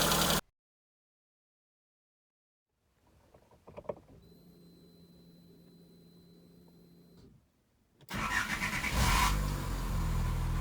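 A ZAZ Sens car engine idles steadily with a low hum and faint whine, then a louder burst of broadband roaring revs near the end.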